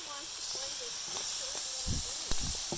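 Roasted peppers, garlic and onion sauté in a pan for paella, giving off a steady hissing sizzle that lasts the whole stretch, with faint background voices and a few soft knocks.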